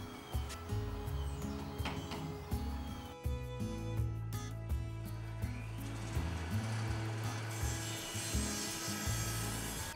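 Power saw cutting through a wood block, a loud close motor hum with steady grinding and rasping that shifts pitch slightly as the blade works through the wood.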